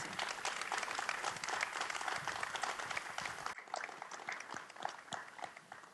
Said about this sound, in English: I'm going to give it another applause